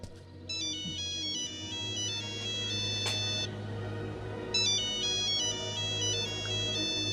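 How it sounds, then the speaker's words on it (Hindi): Nokia phone ringtone playing inside a horror video game, a steady melodic tune looping through the whole stretch over a low ambient hum, with one brief gap partway before the melody resumes. "नोकिया का फोन बज रहा है हमारा"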